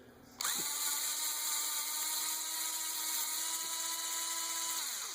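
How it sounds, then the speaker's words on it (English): A ratchet loosens a bolt on the thermostat housing of a 2004 Jeep Liberty 3.7L. It kicks in abruptly and holds a steady, close mechanical whine for nearly five seconds before easing off. "So I'm just taking off this bolt here."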